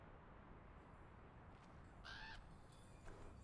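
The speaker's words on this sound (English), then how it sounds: "That's a crow." In the video game Fjord Noir, a crow gives a single faint caw against steady, low ambient noise.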